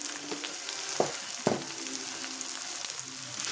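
Chopped tomatoes with salt and turmeric fry in a hot pan with a steady, close sizzle. A couple of sharp clinks or stirs come early on, and there is no talking.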